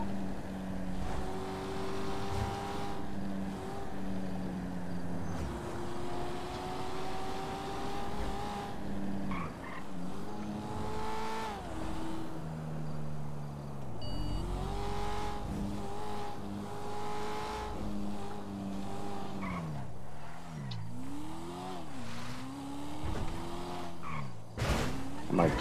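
Cars in a police pursuit in GTA roleplay, engines revving and shifting gears again and again for the whole stretch, with tire noise and a crash thud near the end.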